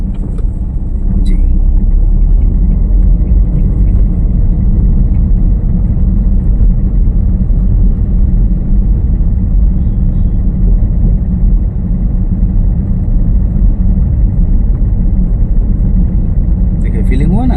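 A car drives steadily along a road during a driving lesson, with a constant loud engine and road rumble throughout and no break, and no voices rise clearly above it.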